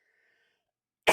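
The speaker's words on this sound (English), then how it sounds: "The cough is definitely getting better, by the way." A single sharp cough bursts out after near silence, loud and close, cutting off at the end.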